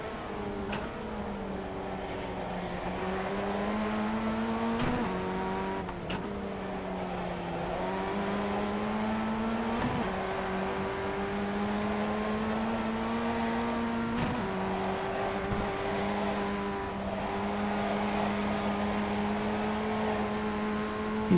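Race car engine from the iRacing sim racing game drones steadily with a sustained tone that shifts through gear changes, sharp dips and pickups marking upshifts, loud and continuous without talk.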